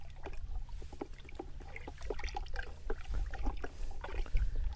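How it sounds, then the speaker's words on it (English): Dirty pond water being stirred in a bucket, a busy stretch of sloshing, swirling splashes and small drips, close up and moderately quiet, continuous with no speech. "And now what I'll do is I'll give it a good old stir"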